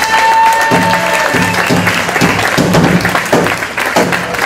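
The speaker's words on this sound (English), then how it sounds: "could we give him a round of applause?" An outdoor audience at Disneyland applauds a Native American lead singer with loud, sustained clapping from many people, a busy crowd wash with low voices and faint tonal sounds mixed beneath it.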